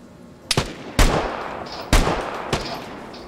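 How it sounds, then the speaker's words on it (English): Sniper shots from an SVD rifle in the video game Vigor, with four sharp, loud cracks spaced about half a second to a second apart, each trailing into a short rumbling echo. "Of course, Brian, I didn't miss both shots."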